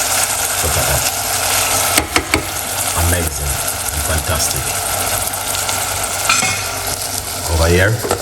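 A spoon stirring food in a cooker pot after the heat is switched off, with a soft steady sizzle underneath and a few scraping strokes across the pot, heard near.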